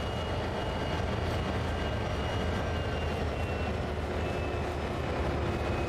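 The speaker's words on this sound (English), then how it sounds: "the train is speeding up quite fast" A freight train on Sand Patch Grade in Train Sim World 2 gathers speed, a steady, dense rumbling roar of engine and rolling wheels that holds at a constant loud level without a break.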